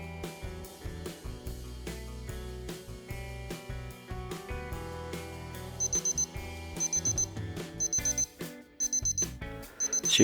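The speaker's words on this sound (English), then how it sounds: "your countdown timer has the usual 4 beep alarm, but this alarm only lasts 10 seconds" A Casio W-54US digital watch's countdown timer alarm sounds as repeated groups of four high, thin electronic beeps, starting partway through. The beeps stand out clearly above steady background music, with no talking.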